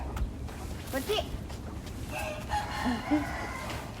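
Chickens on a farm in the Japanese countryside beside rice paddies, with soft clucking and short rooster-like calls scattered at mid distance, mixed with people talking nearby.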